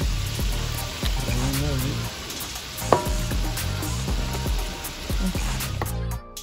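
Chopped mushrooms fry in a hot pan for a beef Wellington, sizzling steadily at close range while voices talk over the cooking.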